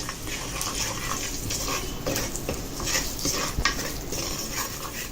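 Salt being stirred into a pot of Sai Baba prasadam mixture, a steady soft scraping and stirring close by with faint sizzle underneath, continuous throughout with no voices.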